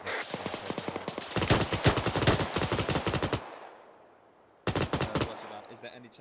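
Automatic gunfire in ArmA 3 during an Afghanistan deployment, rapid loud bursts of closely spaced shots, a pause, then another short burst, with faint voices between.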